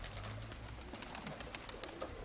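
Pigeons cooing beside a pigeon loft, low soft coos under steady outdoor background noise and faint chirps, fairly distant and continuous.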